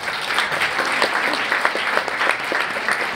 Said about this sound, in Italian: e con un applauso mio.